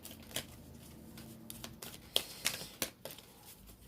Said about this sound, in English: we're going to shuffle and see if we can get an oracle card